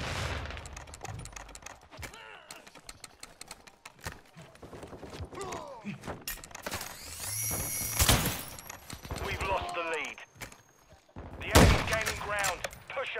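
Gunfire in Call of Duty: Modern Warfare II, sharp repeated shots and bursts scattered through a chaotic firefight, some loud and close, mixed with game effects and shouted voices.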